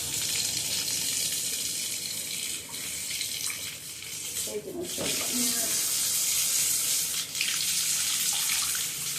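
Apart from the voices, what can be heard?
water running from a shower tap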